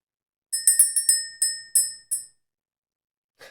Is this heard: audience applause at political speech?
no